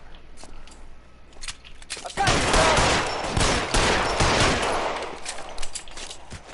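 Bursts of machine gun fire ring out in a shootout in LA Noire, coming in loud rapid volleys under and between shouted voices.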